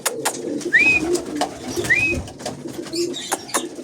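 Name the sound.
pigeon cooing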